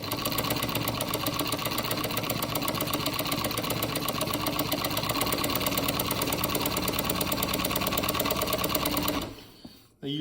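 A chenille stitching machine runs steadily at a fast, even rhythm, loud and continuous, with the needle rotated and looper switched underneath, then cuts off abruptly near the end.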